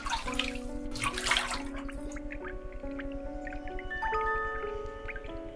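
Shoes being washed in water in the video game The Witch's House: splashing and running water in short bursts near the start, then faint drips over sustained musical tones.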